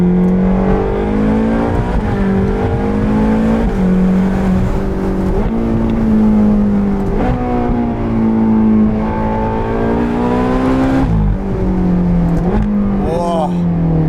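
A 10-year-old Ferrari California engine drones steadily while driving, its pitch rising and falling through gear changes, heard from inside the car under intermittent talk.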